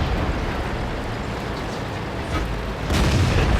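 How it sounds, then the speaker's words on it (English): Heavy artillery booms and rumbling gunfire fill a World of Tanks battle, a dense continuous roar with a louder burst near the end, no voices. "We were taking artillery fire"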